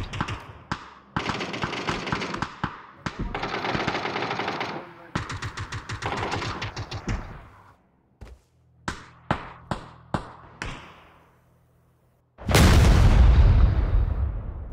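A C4 blast goes off in PUBG as a loud, broad, roaring burst near the end, after a stretch of rapid gunfire and scattered single shots.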